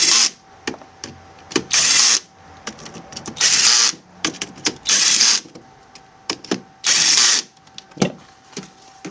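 Power tool tightening bolts on a Vectrix lithium battery conversion, with loud close bursts of buzzing rattle repeating one after another, separated by sharp clicks and clanks of bolts and sockets.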